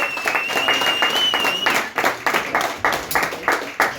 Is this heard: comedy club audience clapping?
yes